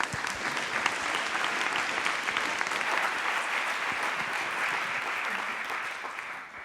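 Audience applause welcoming a guest speaker at a data science lecture, a steady, dense clapping from a crowd that holds evenly throughout and fades slightly at the very end, with no voices over it.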